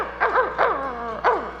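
Human voice imitating a puppy barking, three quick high yips in a row, close and clear over a low steady hum.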